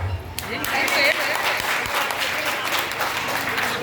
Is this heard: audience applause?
yes